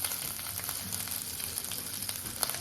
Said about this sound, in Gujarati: આપણે અડધી મિનિટ જેવું સાંતળી લઈશું, જેથી આપણી જે આદુ મરચા લસણની પેસ્ટ છે તે કાચી ન રહી જાય